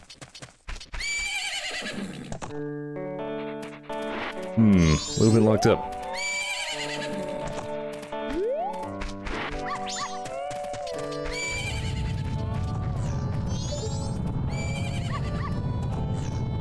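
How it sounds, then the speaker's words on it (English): A horse neighs in the video game Majora's Mask, with clip-clop hooves and background game music. Someone talks briefly over the close, loud whinnying. "Isn't that your horse? It is my horse."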